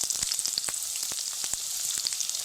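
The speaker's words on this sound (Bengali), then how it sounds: "পেঁয়াজটাকে হালকা লাল লাল করে ভেজে নিই।" Two large finely chopped onions sizzle steadily in hot oil tempered with five-spice, a dense continuous frying hiss with scattered crackles and pops, close and fairly loud with no talking.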